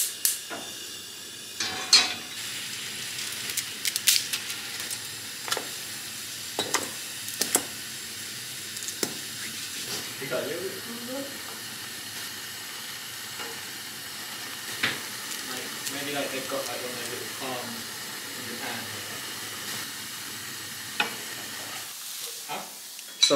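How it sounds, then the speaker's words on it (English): Cheap brick instant noodles cooking in a saucepan of boiling water, with steady bubbling and hiss broken by spoon stirs and pan clinks, under faint occasional talk. "So now I'm gonna make these noodles."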